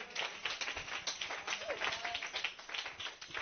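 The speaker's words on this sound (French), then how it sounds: "Donnez-lui une acclamation" A church congregation applauds and cheers during a sermon, a dense, steady wash of clapping that fills the whole stretch at moderate volume, with a faint voice briefly rising through it.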